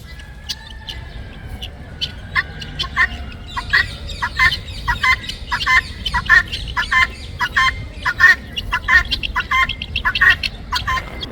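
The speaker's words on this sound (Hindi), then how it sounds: "असली और नस्ली मुर्ग।" A rooster and other fowl in the grounds of Dolmabahçe Palace in Istanbul call repeatedly, with loud, rhythmic crowing and clucking bursts over steady outdoor background noise.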